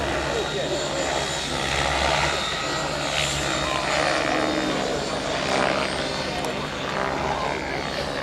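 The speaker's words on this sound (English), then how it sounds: "He's flying the E700 with a Scorpion Nick Maxwell motor" An E700 model aircraft with a Scorpion electric motor flies overhead at an outdoor model aircraft show, a continuous whining motor drone rising and falling in distance.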